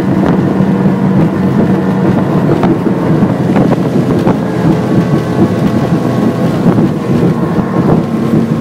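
A Quintrex 510 Cruiseabout boat runs at about 70 km/h, a loud, steady rush of engine roar, hull slap and heavy wind buffeting the microphone without a break.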